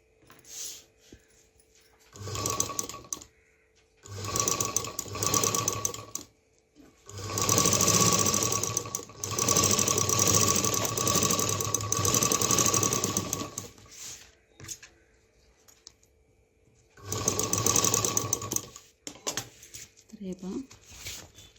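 A sewing machine stitches the lining onto the other side of an old raincoat, running in several separate bursts of steady mechanical whirring with short quiet pauses between them.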